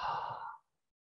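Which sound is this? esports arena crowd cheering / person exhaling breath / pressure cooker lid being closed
person exhaling breath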